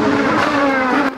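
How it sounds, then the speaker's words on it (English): IndyCar race cars at the Honda Indy Toronto scream along the Lakeshore Boulevard straightaway, a loud, close, high-revving engine note sustained for about a second before cutting off. "The cars exit a gradual right corner at turn 2 and then devour a long straightaway on Lakeshore Boulevard."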